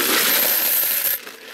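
Copper cent coins pour steadily into a plastic kitty litter tote, a dense loud clattering cascade lasting just over a second before it suddenly thins to a few scattered clinks.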